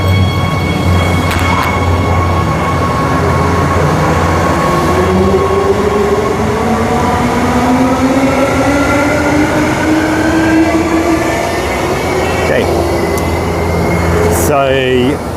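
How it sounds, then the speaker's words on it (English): A Transperth Mandurah Line electric train pulls away from a station platform with a rising electric motor whine and rolling rumble, steady and loud, ending with a brief squeal near the end. "we'll see this train out"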